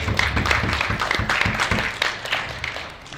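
Audience applause at a tech and hip hop panel in Los Angeles, a steady wash of clapping from a seated crowd that holds for about three seconds before gradually thinning out.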